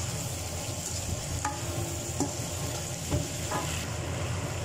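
Asparagus sautéing in a pan with oyster sauce and a splash of water, a steady close sizzle with occasional light scrapes and stirring taps throughout, no voices.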